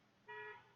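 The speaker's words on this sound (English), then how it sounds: "Somebody's honking a horn outside now." A single vehicle horn honks once outside, a short steady toot heard faintly and at a distance over a quiet indoor background.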